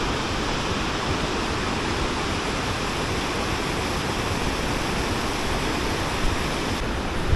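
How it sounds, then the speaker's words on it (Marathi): Steady, dense roar of rushing water from a waterfall near Amboli, a broad continuous wash with no pauses and no voices. "तो त्या साईडला आपण बघू शकतो वॉटरफॉल आहे"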